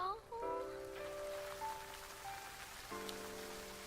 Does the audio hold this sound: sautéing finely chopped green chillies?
no